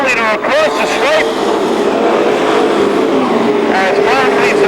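Pro stock race cars roar around Seekonk Speedway in a loud, continuous engine drone with rising and falling pitch as the field passes, while an announcer talks over the noise.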